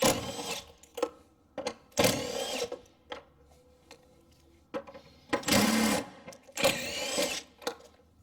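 A power tool removes 10mm bolts from the intake box of a car that runs rough with a high idle, heard as a series of short, close mechanical whirring bursts separated by quiet gaps, with no talk.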